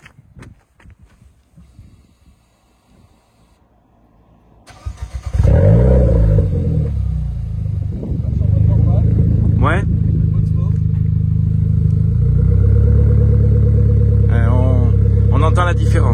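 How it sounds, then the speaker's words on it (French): Renault Clio 4 R.S. with a custom full-tube exhaust line starts up after a few clicks, then settles into a loud, steady, deep idle with brief revs, a short remark spoken over it. "On va écouter le son de cette ligne maison, full tube."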